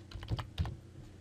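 A few quick, close keystrokes tap on a computer keyboard as a password is entered, in two short clusters followed by quiet.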